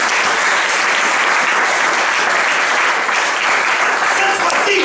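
Congregation in a church applauding and cheering, a dense, loud, continuous wash of clapping that holds steady throughout with voices mixed in.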